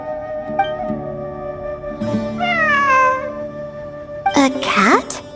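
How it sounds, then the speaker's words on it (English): A cat meows in the video game Genshin Impact: a short call, then a longer falling meow, then a rising, strained caterwaul near the end, heard up close over faint ambient tones. "It really is a cat."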